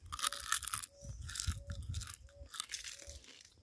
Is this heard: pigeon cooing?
no